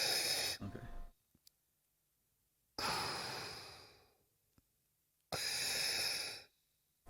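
Slow, heavy astronaut breathing inside a spacesuit during a video-game spacewalk: three long, close breaths with silence between them and no other sound.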